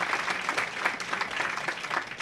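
A packed crowd applauding at a professional women's bowling tournament in a bowling alley, a steady dense wash of clapping throughout, moderately loud and without clear talk.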